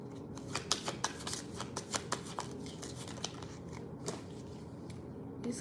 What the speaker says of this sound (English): These cards are flippy floppy.